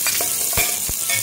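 Onions sauté in a hot pan with a loud, continuous hiss and sizzle, punctuated by a few sharp scraping stirs, heard close up with no voices.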